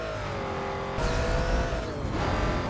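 A Ford Mustang races in Need For Speed Most Wanted, its engine a steady high drone that rises with a brief surge of acceleration and tire noise partway through.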